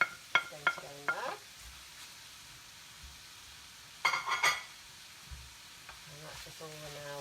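Red onion frying in a hot pan while being stirred, with scraping and clattering stir strokes over a quiet, steady sizzle, some distinct bursts of utensil contact near the start and middle, heard close up.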